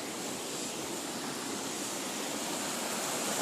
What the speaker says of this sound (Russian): Добрались до водопада.